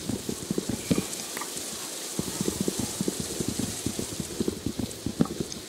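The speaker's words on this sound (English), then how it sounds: "I like the new rain sound, actually." Rain in the video game Minecraft patters continuously, with irregular close droplet taps over a steady wash of hiss, moderately loud and free of talk.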